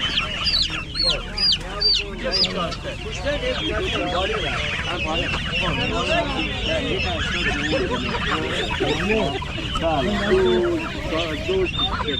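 Chickens, roosters and geese cluck, crow and honk densely and continuously at a weekly poultry and chick market in Kuchesfahan near Rasht, Gilan, Iran, a loud close crowd of fowl throughout with faint voices mixed in.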